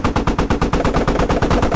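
Sustained rapid burst of tank-mounted machine gun fire in a video game, loud and close, with a steady rhythm of evenly spaced shots and no talk over it.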